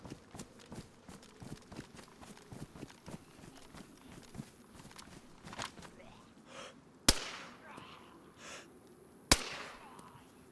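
Two sharp gunshots in the DayZ video game, set in Chernarus, cracking loudly and a couple of seconds apart over quieter in-game footsteps and rustling.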